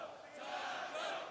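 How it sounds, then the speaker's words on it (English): A stadium crowd at a Counter-Strike esports match, MLG Columbus 2016 on Overpass, cheers in a steady, loud roar that swells slightly toward the end. "People cheering Taco now."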